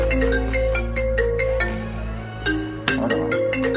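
A phone ringtone plays loud and close, a repeating melodic electronic tune with steady tones and a few sharp attacks, with no talking over it.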